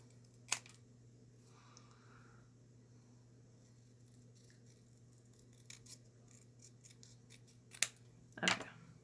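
Scissors cutting layered craft material for broom, wand and book embellishments, heard as a few sharp, isolated snips spread apart in a quiet room, the loudest near the end.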